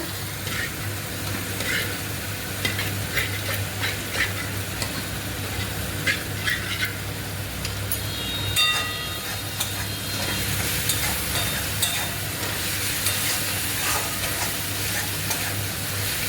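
Garam masala and onion fry while being stirred, giving a close, steady sizzle with scraping stir strokes and a low background hum.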